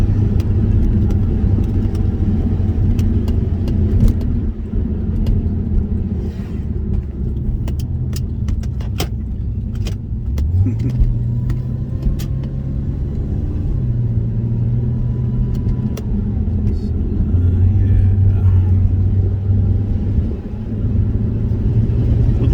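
A Porsche 986 Boxster convertible with the top down drives steadily on a road, its engine and tire rumble constant and close, with occasional small rattles and clicks from inside the cabin.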